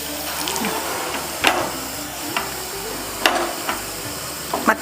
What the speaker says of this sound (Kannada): ಈಗ ನೀರು ಹಾಕಿ